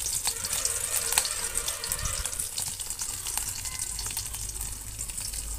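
Chopped green chillies added to cumin seeds in hot oil, crackling and sizzling steadily and close up with a bright hiss throughout, no voices.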